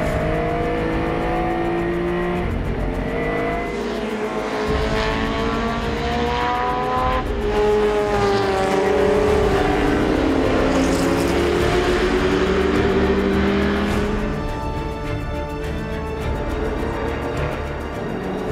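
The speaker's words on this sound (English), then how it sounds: "M1, the crème de la crème of endurance racing cars is here" BMW M1 endurance racing cars at Spa-Francorchamps during a historic endurance race, their engines roaring loudly and continuously as cars accelerate and pass along the track, with the pitch rising and falling.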